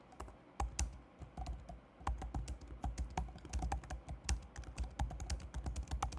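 Fingers type rapidly on a computer keyboard, a close, quiet run of uneven key clicks with brief pauses, entering an example database query.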